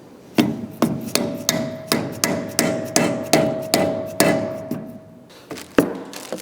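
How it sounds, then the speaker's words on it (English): A greasy hammer taps a part into the front end of a 1972 Challenger. About fifteen sharp metallic strikes come in a steady rhythm, each leaving a short ringing tone, close and clear with no talking. "And tap it in with my"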